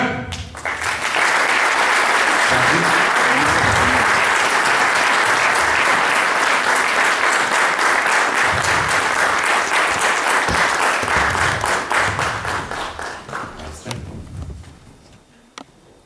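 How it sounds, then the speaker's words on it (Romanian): Sustained, loud audience applause at a municipal excellence awards gala, a dense wash of clapping that holds for about twelve seconds before tapering off. "Aplauze!"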